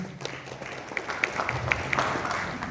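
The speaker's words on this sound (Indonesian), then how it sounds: "Tepuk tangannya untuk Bang Irwandi ya." Applause from an audience at an event, moderate and somewhat distant, with crisp individual claps standing out over a low murmur.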